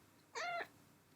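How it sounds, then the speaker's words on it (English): A cat gives a single short, clear meow close by in an otherwise quiet room, with no voices during the call. "That's my cat."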